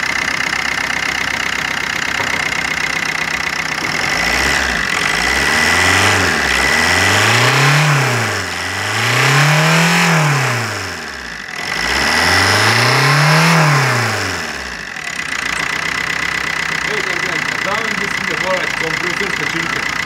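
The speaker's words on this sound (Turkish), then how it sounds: "Şu anda aracımız çalışıyor." A car engine runs after injector replacement, idling steadily and then revving up and down three times in smooth, rising and falling sweeps, loud and close.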